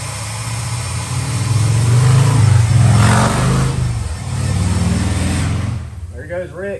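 A chopper motorcycle engine revs loudly and close, surging and easing in a couple of long swells before dropping away, with a voice briefly heard as it fades.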